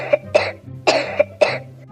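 A child with a cold coughs in a series of short, harsh bursts, four or five close coughs in a row heard up close.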